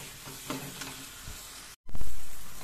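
Steady sizzling and crackling of ground masala frying in a pan for soya chaap gravy, loud and close, with a brief stir and a short break before the hiss resumes.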